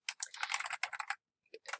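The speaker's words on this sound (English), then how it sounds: "I can just go to the next line and I can type in," Rapid typing on a computer keyboard, a dense run of close, crisp keystrokes followed by a short pause and a few more taps, heard alone without talk.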